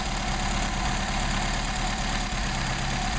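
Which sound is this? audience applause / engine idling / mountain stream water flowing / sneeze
engine idling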